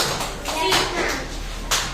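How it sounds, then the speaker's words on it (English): A short burst of clapping from a group of second-grade schoolchildren in a classroom, loud and close, with voices talking over it. "Clap for them."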